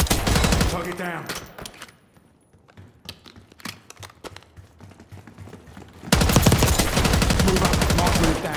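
Rapid bursts of automatic gunfire in Call of Duty Black Ops 6, loud and dense at the start and again at the end, with scattered sharper single shots in the quieter middle stretch.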